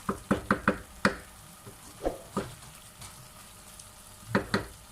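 Semolina and milk halwa cooks in oil in a pan with a soft, steady sizzle, broken by irregular sharp taps and scrapes of a spoon stirring against the pot.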